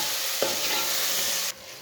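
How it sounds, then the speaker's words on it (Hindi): Chopped tomatoes and whole green chilies cooking in a pan for pakora kadhi, a loud steady sizzle with a stirring stroke early on, then the frying drops noticeably quieter toward the end. "टमाटर को भी 2 मिनट तक पका लेंगे।"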